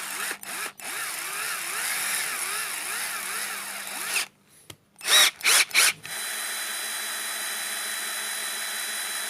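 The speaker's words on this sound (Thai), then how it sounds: "เดี๋ยว เราลองเจาะไม้ ดูนะครับ" A cordless drill bores into wood, whining steadily for several seconds, cutting out briefly with a few short bursts, then running on continuously, close and loud.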